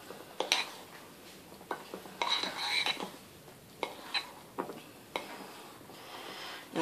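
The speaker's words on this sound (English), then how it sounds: "I'm just very gently going to just sort of cut that with the knife" Knife gently slicing through cake icing, a series of soft scraping and light clinking touches against a plate, spaced out and fairly close, with quiet pauses between.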